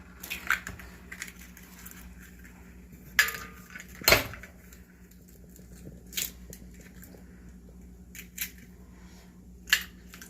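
Two whole eggs cracked into a Yorkshire pudding batter bowl in a kitchen, a few sharp cracks and wet clicks scattered among soft handling noises over a faint steady hum.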